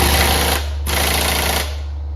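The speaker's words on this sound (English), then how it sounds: "we re-tightened the big 22mm bolt with also the air impact" Air impact wrench tightening a 22mm crankshaft pulley bolt on a BMW Z3 1.8, heard as two loud, rapid hammering bursts separated by a short pause.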